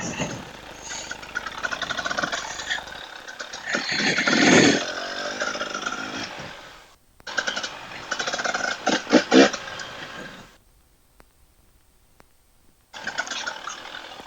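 A 2024 KTM 300 TBI two-stroke hard enduro dirt bike ridden through wet, sloppy early snow in the Pacific Northwest, its engine revving and crackling in bursts with a brief cut-out and near-silent gaps.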